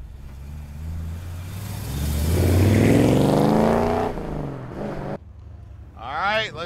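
A 1955 Chevrolet Bel Air with a 4-speed transmission drives and accelerates, its engine rising to a loud roar before easing off, with a short gear change and a later rev.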